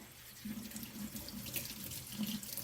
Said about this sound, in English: And then I'm going to give them a nice rinse, okay?